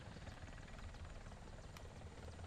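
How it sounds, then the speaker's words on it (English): A stock helicopter in the War Thunder video game drones with a steady, dense rotor and engine roar, faint and continuous, with no talk over it. "Of course, it's a stock helicopter"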